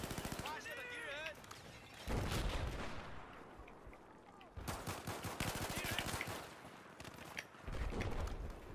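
Battlefield combat gunfire comes in loud, rapid automatic bursts, with dense crackling volleys that stop briefly and restart several times.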